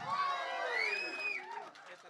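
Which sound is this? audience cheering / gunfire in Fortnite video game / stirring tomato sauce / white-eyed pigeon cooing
audience cheering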